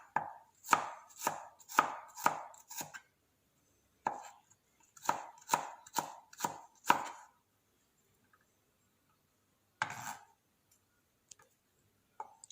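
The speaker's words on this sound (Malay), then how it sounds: "kemudian halia akan dipotong seperti ni, dihiris seperti ni" Fresh ginger is finely sliced with a knife on a cutting board, giving quick rhythmic chops in two bursts of several strokes each, then a pause and a final short flurry, close and crisp with no talk.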